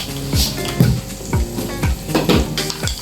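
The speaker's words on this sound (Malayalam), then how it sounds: "നമുക്ക് ആവശ്യത്തിനുള്ള കടുക് ഇട്ട് കൊടുക്കാം" Mustard seeds sizzle and pop in hot oil at the start of a Kerala-style fish curry, with a steady fry and sharp crackles close up, plus a few clinks of a spoon against the pan.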